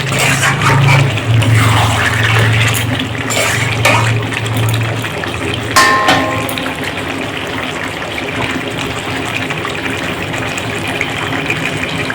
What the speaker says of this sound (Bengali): আমি গরম জল দেবো গরম জল দিলে মাংসের স্বাদটা আরও বেড়ে যায়